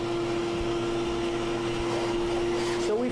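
A Sirena 524 dust mite cleaner runs steadily with strong suction, a constant mechanical whine and airy roar holding an even level throughout, with a faint voice slipping in near the end.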